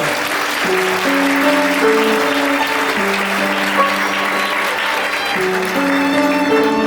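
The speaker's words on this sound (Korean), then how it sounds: "여러분 박수 부탁드립니다." Guests at a hotel wedding ceremony applaud steadily in a continuous wash of clapping, heard beneath sustained music with a slow, shifting melody.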